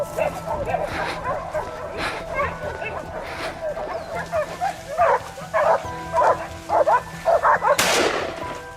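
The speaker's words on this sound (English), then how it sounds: "The dog's fierce barking echoed again from the other side of the mountain, a clear warning." A hunting dog in the mountains barks in repeated sharp bursts, some yips spaced through the middle and a rapid run near the end, heard over a voice talking and a loud crack near the close.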